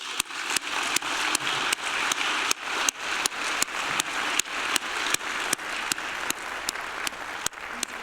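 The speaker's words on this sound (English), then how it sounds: "I'd like to give you a round of applause" Steady applause from a crowd at an awards induction ceremony, dense and continuous clapping throughout with a few sharper claps standing out near the front.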